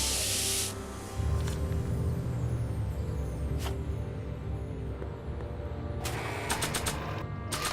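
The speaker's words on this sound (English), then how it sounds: "and then we spray the board" A spray paint can sprays a board in the Back to the Future video game: a sharp hissing burst at the start, a rumbling stretch, then a rapid series of short, crisp spray bursts near the end.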